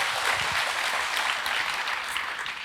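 A church congregation claps in steady, dense applause during a Sunday service, a continuous loud wash of hand claps that holds steady throughout.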